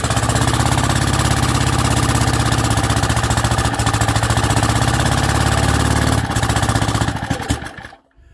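A World War II generator's small engine catches and runs loudly and steadily with a rapid knocking beat, then cuts out abruptly near the end, leaving near silence.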